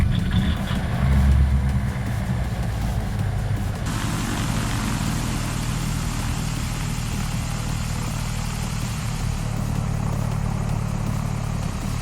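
The right engine of a Diamond DA62 twin-engine light aircraft spins up to a steady droning hum in a flight simulator, rising sharply after a few seconds and holding a constant loud tone.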